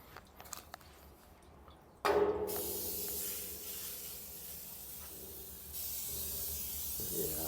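An aerosol can of cooking oil sprays a long, steady hiss onto a new Shirley Fabrication 24x60 straightback smoker being seasoned. The spray starts abruptly after a quiet moment, holds continuous and close, then strengthens slightly near the end.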